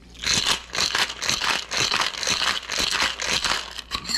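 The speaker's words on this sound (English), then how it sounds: "gonna shake that up with some ice" Ice rattles hard in a cocktail shaker as a Boo-Ya cachaça cocktail is mixed, about eight fast, rhythmic crunching shakes in quick succession, loud and close, with no talking.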